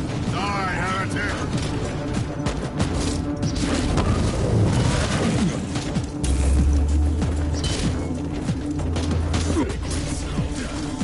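A grenade blast in the Warhammer 40K Inquisitor Martyr video game, a deep boom with a low rumble that rises about midway, sitting under game music, combat clatter and a player's talking.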